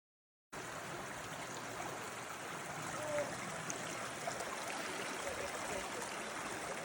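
Continuous rushing of a flowing stream, a steady broadband wash of water, moderately close and unchanging throughout.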